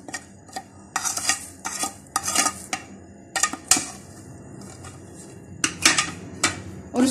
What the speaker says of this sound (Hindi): और इसको बहुत अच्छी तरह से मिक्स कर लें।